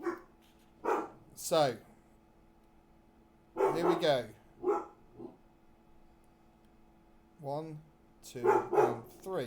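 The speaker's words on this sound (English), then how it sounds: "Excuse the dog in the background." A dog barks in the background in several short, separate bursts, while someone talks and counts out loud over it.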